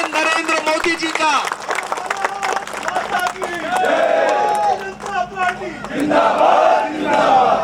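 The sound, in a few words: crowd clapping and cheering at political rally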